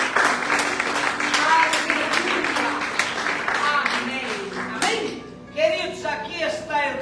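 A church congregation applauds with rhythmic clapping that fades toward the end, while voices and singing-like tones carry over the room and a speaker's voice emerges at the close.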